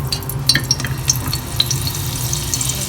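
Ghee and coconut oil sizzling in a pressure cooker, a steady soft frying hiss with scattered small pops and crackles, no voices.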